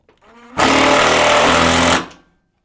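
A power driver runs a number 14 screw through a valley bracket into corrugated metal roofing, one loud steady whir of about a second and a half that starts sharply and winds down.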